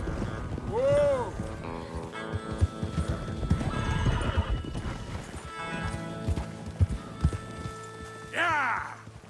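Horses in Red Dead Redemption 2 whinnying loudly and trotting with clip-clop hoofbeats, while a voice calls out to them over the herd.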